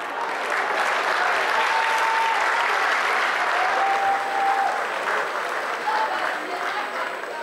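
Comedy club audience in Abuja applauding a stand-up comedian, a steady, dense wash of many hands clapping throughout, with crowd murmur.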